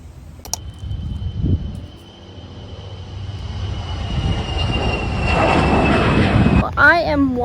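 F-22 fighter jets fly overhead with a loud, broad jet roar that dips, then swells steadily louder over several seconds as they pass.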